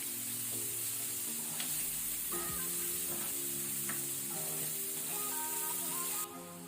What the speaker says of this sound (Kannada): ಇದನ್ನು ನಾವು ಒಳ್ಳೆ ರೀತಿ ಫ್ರೈ ಮಾಡಬೇಕು, ಇದರ ಹಸಿ ವಾಸನೆ ರಾ ಸ್ಮೆಲ್ ಹೋಗೋ ತನಕ.